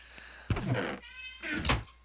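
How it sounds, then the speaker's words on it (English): A pet cat indoors lets out two drawn-out meows close behind, separated by a short pause, with some soft shuffling movement. "my cat is going a little ballistic behind me"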